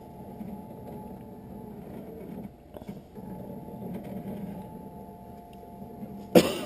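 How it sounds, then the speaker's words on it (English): A man with allergies gives a brief cough, faint at first, then a louder burst at the very end, over a steady low mechanical hum in a quiet room. "Cover my mouth when I cough"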